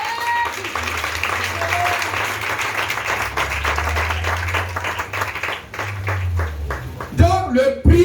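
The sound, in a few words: church congregation applauding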